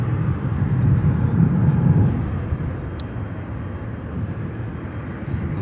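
A jet airliner arriving from Anchorage at Chicago O'Hare makes a steady low rumble that swells toward the middle and then eases to a softer, sustained roar, heard from a distance.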